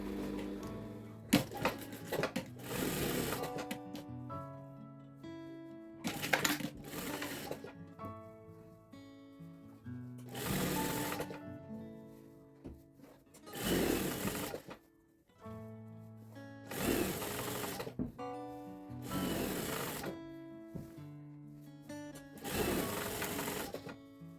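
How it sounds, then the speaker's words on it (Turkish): A straight-stitch sewing machine sews elastic onto a fitted bed sheet in repeated bursts of rapid mechanical stitching, separated by short pauses, up close and with no speech. "Şimdi lastiği düz makinede şöyle çekiştirerek dikeceğim."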